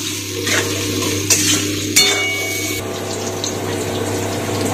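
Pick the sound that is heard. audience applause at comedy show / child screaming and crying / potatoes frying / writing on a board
potatoes frying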